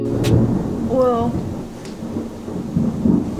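Rumbling thunder from a summer storm outside, a low continuous roll with rain-like hiss, and a voice talking briefly over it.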